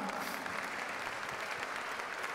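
Applause from a TV studio audience at a Dancer against Cancer charity show, honouring Manfred and Nelly Baumann: a dense, steady wash of clapping that stays fairly quiet throughout.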